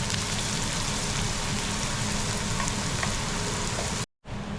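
Curry leaves fry in hot oil in a home kitchen, giving a continuous dense sizzle and crackle close by, broken by a brief cut to silence near the end.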